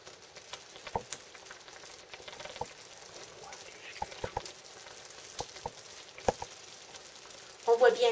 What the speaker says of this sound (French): il faut donc bien remuer pour que toutes les graines puissent continuer à être bien hydratées